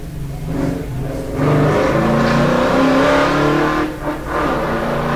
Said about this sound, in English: Here comes Kevin Crosh. Yes, Capri V8. Does that sound right? Capri V8. There you go. Here it comes. This is a 5 litre.